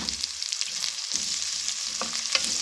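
Two onions tipped into hot oil with cumin seeds crackle and hiss in a pan, a fairly soft, steady sizzle with scattered sharp pops and no voices.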